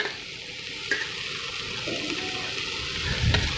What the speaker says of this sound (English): Fry for some time.